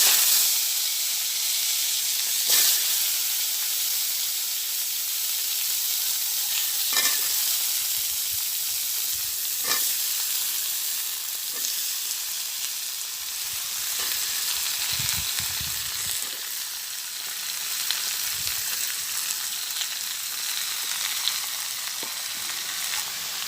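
Bottle gourd fries in a pan with bay leaves, giving a steady, loud sizzle and hiss throughout, with occasional clicks and stirring scrapes.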